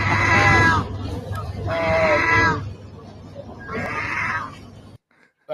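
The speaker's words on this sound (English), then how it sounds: "But the seagull is trying to meow." A seagull gives three drawn-out, wavering cries that sound much like a cat's meow, each about a second long and separated by short pauses, close and fairly loud over steady low background rumble, with a brief silent gap at the end.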